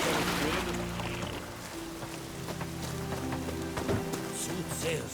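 Rain hisses steadily in The Witcher 3: Wild Hunt on PS5, a broad wash of noise with scattered drop ticks, running under low game sounds and voices throughout.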